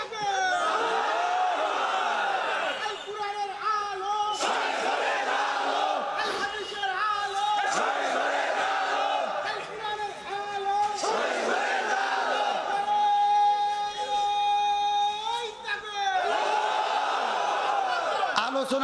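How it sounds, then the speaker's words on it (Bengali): A crowd shouts takbir in unison in answer to a single leader's slogan, loud and roaring, in repeated surges of massed voices at a religious gathering. "একজন স্লোগান দেবেন, সবাই তাকবীর দেবেন।"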